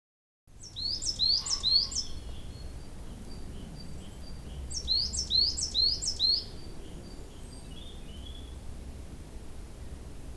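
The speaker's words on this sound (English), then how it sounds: "That was the chirp of a coal tit" Two bursts of bright, sharp chirps from a coal tit, a small bird with a grey back and black cap, repeated in quick clusters over faint background hiss, clear and fairly close.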